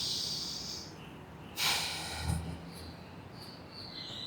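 A person draws a deep, hissing breath in near the microphone, with a short snort-like burst partway through, over a quiet background.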